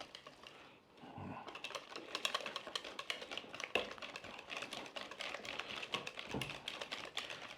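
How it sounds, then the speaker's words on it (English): Lemon ricotta pancake batter whisked by hand in a bowl, a close, rapid run of light clicking taps that continues steadily with no one talking. "Get in there and whisk it."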